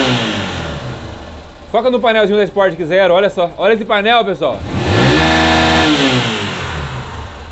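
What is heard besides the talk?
carbureted 150 motorcycle engine revving with new camshaft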